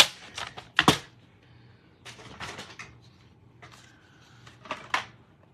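Card stock is cut in a few separate rough bursts of slicing and shuffling, close and fairly loud, with quiet gaps between them.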